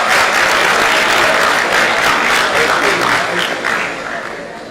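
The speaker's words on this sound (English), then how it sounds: "please give the team a very warm round of applause" Warm audience applause at a University of Benin matriculation ceremony, loud dense clapping from a large crowd that holds steady and then tapers slightly toward the end.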